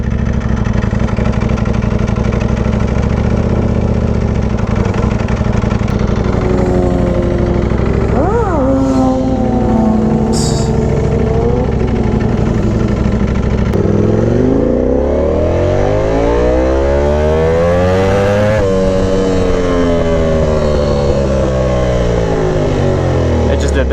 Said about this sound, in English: You guys saw that misfire? I think I'm just gonna, yeah, there you go. It's still idling funny and all.